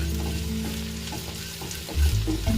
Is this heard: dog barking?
no